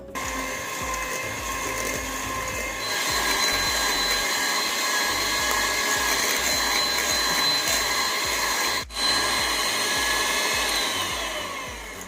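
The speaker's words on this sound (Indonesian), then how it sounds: "Kemudian saya mixing menggunakan mixer selama 1-2" An electric hand mixer creams butter, margarine and sugar for chocolate chip cookies, giving a steady, loud motor whine that runs continuously with one brief dip near the end.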